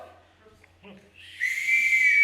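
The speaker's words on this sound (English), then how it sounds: "blow that whistle" A shrill, steady whistle blast rises after quiet rustling and holds loud and clear to the end.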